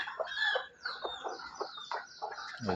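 Free-range village hens clucking close by in a poultry shed where they lay eggs, a rapid run of short, bright clucks and calls without any talk.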